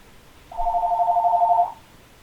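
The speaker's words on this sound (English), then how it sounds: "phone is ringing" A telephone rings with one steady electronic tone that lasts about a second, clear and fairly loud against a quiet background.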